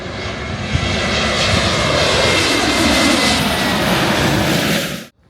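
Steady, loud roar of a LOT Boeing 737 MAX jet airliner's engines heard from on board, a broad continuous rumble that holds level for about five seconds, then cuts off abruptly near the end.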